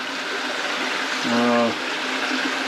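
Water flows steadily through a small off-grid water system, a constant close rushing hiss with a brief voice murmuring over it midway.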